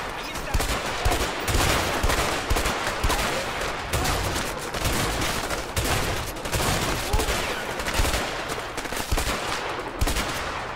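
Dense, continuous gunfire in the A Way Out video game, rapid overlapping shots and volleys filling the whole stretch at high volume, with speech faintly mixed in.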